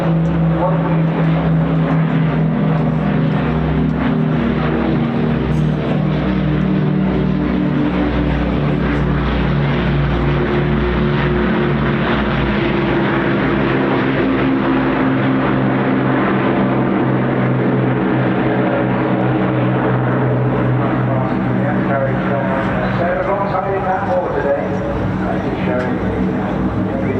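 A vintage aircraft at an air festival taxiing along the runway. Its propeller engines give a steady, loud, throbbing drone that lasts the whole time, with people talking over it.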